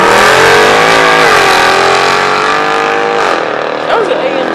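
An AMG car at a car meet revs hard and loud close by, a dense sustained engine roar with pitch sweeps as it climbs and drops, with a crowd talking and shouting over it.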